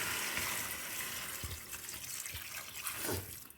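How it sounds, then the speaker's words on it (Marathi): Hot water is poured into chicken cooking in a pot on a wood-fired stove, a soft running, splashing pour with a few louder gurgles, fairly quiet and with no talk. "आता आपण ह्याच्यामध्ये नाही गरम पाणी घालूया."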